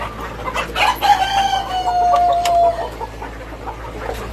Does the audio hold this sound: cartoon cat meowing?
no